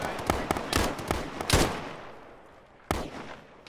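Gunfire in a military video game played by a ShackTac squad, a string of sharp, close rifle shots in quick irregular bursts, followed by a pause and one more loud crack, with no talking.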